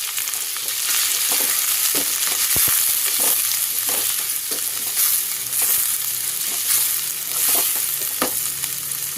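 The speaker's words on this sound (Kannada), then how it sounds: "ಈಗ ಸಣ್ಣಗೆ ಹಚ್ಚಿರೋ ಈರುಳ್ಳಿ ಹಾಕ್ಕೋತಾ ಇದ್ದೀನಿ." Finely chopped onions with green chillies, ginger and garlic frying in a pan for fried rice, a bright, continuous sizzle with repeated stirring knocks and scrapes, close and fairly loud.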